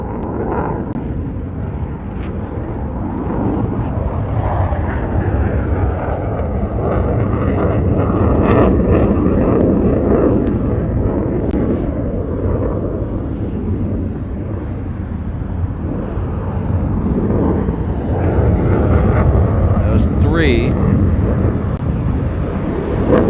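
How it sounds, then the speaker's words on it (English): Continuous loud roar of F-35 fighter jets flying over Honolulu airport, a heavy rumbling wash that swells and holds for over twenty seconds with wind buffeting the microphone. "I don't know the variety from here, but those are F-35s."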